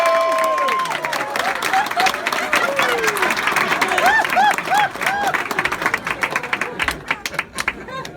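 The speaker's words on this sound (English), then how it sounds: "Please give it a big round of applause for Mr." Comedy club audience applauding and cheering for a comic, a dense sustained wash of clapping with whoops and a voice threaded through, thinning out toward the end.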